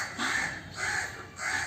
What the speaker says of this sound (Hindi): कहाँ कहाँ कहाँ कर रहा है कौवा